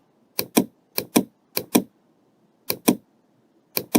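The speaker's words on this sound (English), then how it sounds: "we press the shift from the keyboard" A key on a computer keyboard is pressed at a UV printer workstation, giving crisp, close, paired clicks for press and release, five pairs spaced irregularly with quiet gaps between.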